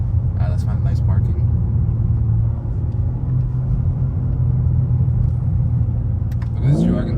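A Mercedes G-Wagon's engine rumbles steadily from inside the moving SUV, a loud, continuous low drone with faint voices and brief movement noises over it.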